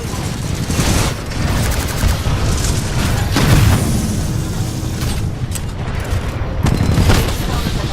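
Loud, continuous game combat with booming blasts and rapid gunfire as enemy titans attack, dense and layered for the whole stretch with heavier bursts near the start, middle and end; a voice briefly speaks beneath the din.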